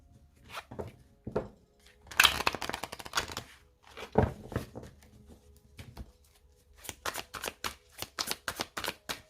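Cards being cut and shuffled by hand, with bursts of crisp riffling and flicking, soft taps and slaps of the deck between them, close and fairly quiet, with no talking.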